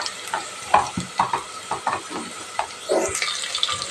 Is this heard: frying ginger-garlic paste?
yes